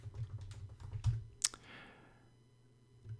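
Typing on a computer keyboard to enter a search into Google: a quick run of light, close key clicks that peaks with one sharper tap, then trails off into quiet.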